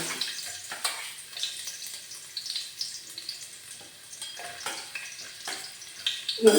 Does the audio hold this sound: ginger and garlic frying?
yes